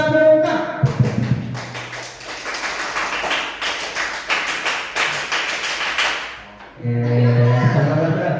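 Teachers at a school workshop on positive culture perform the Indonesian scout clap twice, a rhythmic pattern of sharp group claps and slaps that runs for several seconds. Voices come before and after the clapping.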